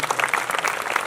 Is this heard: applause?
yes